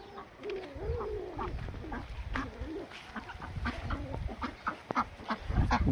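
Flock of free-ranging hens and roosters clucking and calling together outdoors, about thirty birds, busy overlapping clucks with some louder near calls over strong wind noise.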